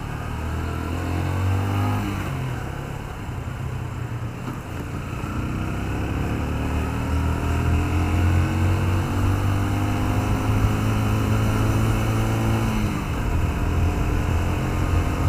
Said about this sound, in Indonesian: Suara mesinnya itu sangat halus. Suara knalpot juga demikian.